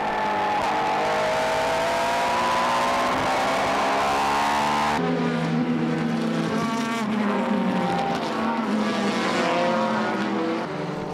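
Super GT race cars, including the Esso Supra, race at Suzuka in 2003: a loud, continuous engine roar with pitch sweeping up through the gears, and a second car's note taking over partway through.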